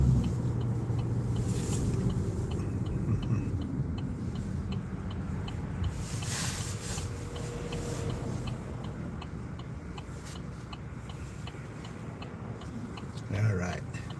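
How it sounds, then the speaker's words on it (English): Busy road traffic around 2 o'clock in the afternoon, a constant broad wash of passing vehicles with a louder swell near the end, mid-distance and steady. "Kind of unusual for traffic to be this busy almost 2 o'clock"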